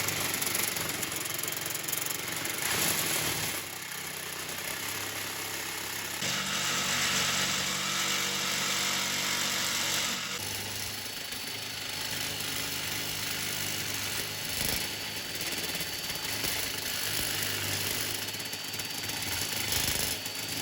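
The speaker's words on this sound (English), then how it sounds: "So we'll go ahead and take the jigsaw. We will cut this out" A jigsaw cutting out a metal gauge plate for a 1969 Chevy C10 truck, a continuous harsh buzzing saw drone with slight shifts in pitch as the blade works, steady and fairly close.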